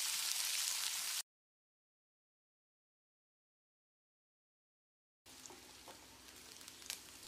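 Soft sizzling of onions frying in a pan for tomato sambar, cut off by a few seconds of silence, then the crackle returns with light stirring.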